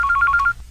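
A cellphone rings in a short, loud burst of rapid electronic trill pulses that cuts off abruptly, heard alone in a quiet room.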